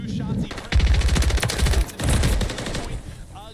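Rapid automatic gunfire in a Call of Duty League esports match, two loud bursts of fast shots with game ambience between them.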